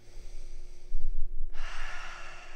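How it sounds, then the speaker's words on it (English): A single close breath, drawn in slowly and then pushed out in a louder, breathy rush, taken while standing in a relaxed stance before playing viola or violin. "take a breath in and out"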